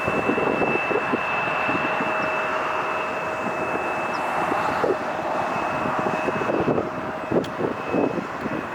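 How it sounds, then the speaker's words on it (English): A Delta Boeing 757 airliner at LAX airport, its engines giving a steady, loud roar with a sustained whine throughout, heard from a fair distance with no speech. "Currently we're just going to see which runway this Delta 757 wants to take."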